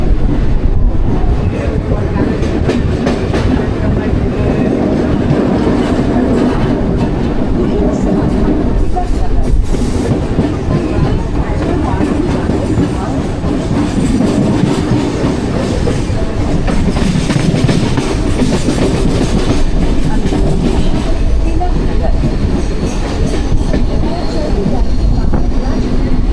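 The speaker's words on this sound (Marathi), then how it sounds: "वाशिम ट्रेन निघालेली आहे" A Mumbai local train departs the station, a loud, sustained rumble of wheels and rattling carriages close by, steady across the whole stretch with occasional voices blended into the noise.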